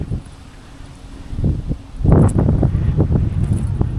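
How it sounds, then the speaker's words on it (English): Strong gusty wind buffeting a small fishing boat beside a dock, a rough roar that swells and thumps against the microphone. "I mean, what the fuck with this wind?"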